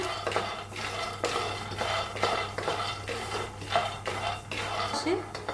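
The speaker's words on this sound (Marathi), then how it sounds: "शेंगदाण पहिलं भाजून घेऊया चांगले शेंगदाण भाजून घेऊया करपूस" Peanuts dry roast in a pan, stirred with a spoon in a steady rhythm of repeated scraping and rattling strokes, close and moderately loud, with faint background voice.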